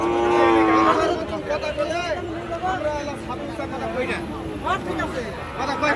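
Cattle mooing loudly and repeatedly at a livestock market amid the general babble of a crowd, with the calls overlapping a constant murmur of people.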